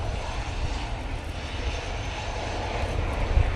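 Airliner departing Manchester Airport on a windy day, a steady broad engine roar with heavy low rumble and wind buffeting, continuous and fairly close with no voices.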